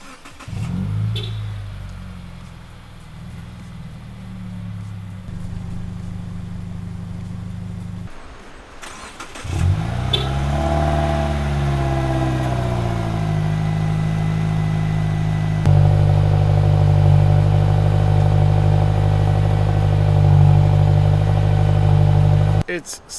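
A Subaru Forester XT fitted with an axleback exhaust idles with a low, throaty rumble. It then revs up in a rising and falling sweep and settles into a louder, deeper steady drone, heard close with no one talking.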